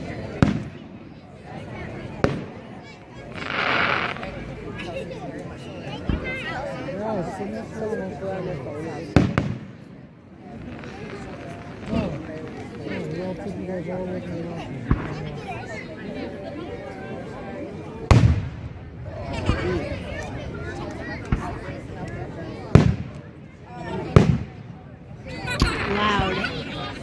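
Fireworks bursting outdoors, a string of sharp booms and crackles scattered across the span, some loud and close, with people chatting and reacting throughout.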